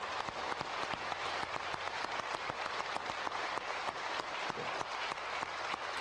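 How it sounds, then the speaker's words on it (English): Applause from an audience at a government defense speech, replayed from a recording: dense, steady clapping with sharp individual claps throughout, fairly faint and without voices. "I don't need to hear the clap"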